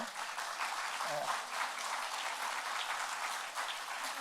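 A church congregation applauds during an Easter service, steady, dense clapping from a room full of people, moderately distant and sustained throughout without talk.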